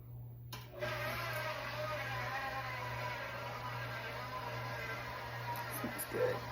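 An electric mixer whirs steadily at low speed through a bowl of coffee buttercream, a continuous motor hum with a faint rattle that holds even from start to finish.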